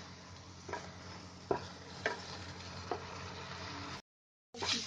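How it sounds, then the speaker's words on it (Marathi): Onion and coconut masala roasting in a pan over a high flame, a steady close sizzle with a few sharp stirring scrapes, then a brief cut to silence before the sizzling resumes. "इथे गॅस फास्ट करून आहे ना हे चांगला मसाला भाजून घ्यायचा"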